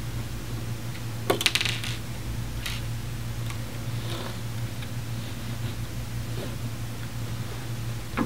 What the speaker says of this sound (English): open the instrument enclosure by removing the two screws on the side of the